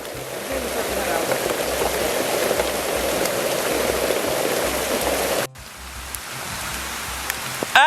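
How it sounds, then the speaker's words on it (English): Rain falls on leaves in a steady, dense hiss, loud and close, then cuts abruptly to a thinner, quieter wash near the end. "Look at that beautiful rain."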